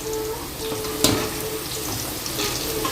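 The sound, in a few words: potato french fries being fried a second time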